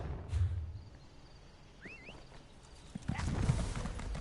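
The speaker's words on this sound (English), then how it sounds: "surely you can't have anything against a pure snow Indrik." A pure snow Indrik mount in Elder Scrolls Online, heard as hoof clip-clop with a brief whinny-like call in the middle, moderately quiet over a soft game ambience, with footfalls growing louder toward the end.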